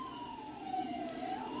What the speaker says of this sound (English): Sirens in the distance.